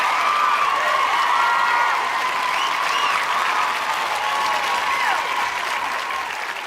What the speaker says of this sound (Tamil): இப்போ ஒரு பெரிய கைத்தட்டலோட பெரிய விசிலோடைய மேடையில் வெல்கம் பண்ணலாம்